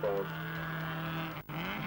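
A 1973 Hillman Avenger GT racing at Donington Park gives a steady engine drone, moderately close, with a brief dip near the end.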